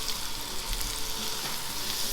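Garlic and onions fry in hot oil with a steady, dense sizzle that stays constant throughout, close and alone without any talking.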